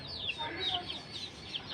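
A black hen clucks and makes soft, throaty calls close by on a small farm, with a few higher squawky notes over a faint background.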